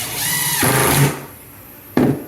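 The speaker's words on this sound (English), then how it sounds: "don't do what I'm doing with the drill, with the screws" Power drill briefly whirring as it drives drywall screws into a kitchen cabinet during a historic house renovation, with a sustained run followed by a short burst after a pause.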